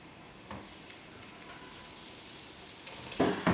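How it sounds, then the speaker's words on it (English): Chopped onion frying in hot coconut oil in a pan, a soft steady sizzle with a few louder crackles and stirring clatters near the end, no voices. "we're just going to cook the onion until it's soft"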